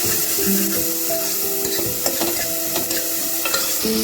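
Turmeric and chili stirred into a tomato and onion masala frying in oil for dal tadka: continuous loud sizzle with scraping spatula strokes and a few clinks, close and without talk.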